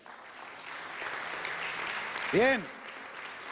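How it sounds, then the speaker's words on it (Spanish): Congregation applause fills a Spanish-language church service during a sermon, a steady wash of clapping heard close, with a brief spoken word rising over it near the end. "Dale un aplauso, Señor."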